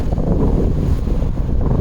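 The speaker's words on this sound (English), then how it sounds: "It's just ridiculous windy out here" Strong outdoor wind buffeting a microphone in a loud, continuous rumbling roar with gusty fluctuations and no pauses.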